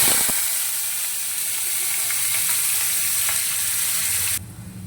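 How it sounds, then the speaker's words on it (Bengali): Chopped onions fry in hot oil with dried red chillies and mustard seeds, making a loud, continuous close-up sizzle with faint stirring that cuts off abruptly near the end. "পেঁয়াজটা লাল লাল করে একটু ভেজে নিয়েছি"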